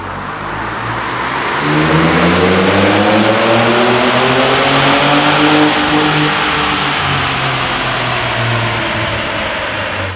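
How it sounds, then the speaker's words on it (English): A Ford Ranger Raptor engine runs a full pull on a dyno in sixth gear, rising from a lower idle into a loud, sustained roar whose pitch climbs steadily for several seconds with no voices. "So we're gonna load her up, get it on the dyno, and see what kind of power this makes."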